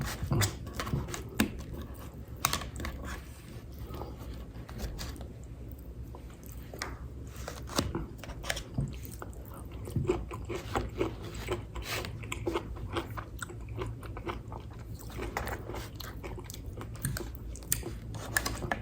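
Close, crisp chewing and biting on pineapple bulgogi fried rice at a mukbang, with irregular wet crunches, lip smacks and soft clicks throughout, no talking.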